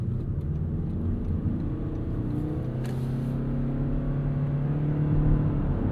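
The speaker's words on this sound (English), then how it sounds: "there's something very non-luxurious about a CVT and a screaming 4-cylinder" 2025 Toyota Crown Signia four-cylinder engine with a CVT accelerating, a steady droning engine hum that climbs slowly in pitch, heard from inside the cabin over road rumble, without talking.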